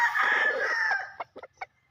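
A Kugon Black rooster, a two-time winner, lets out one loud, close crow that holds steady, then breaks into a few short clucks as it fades.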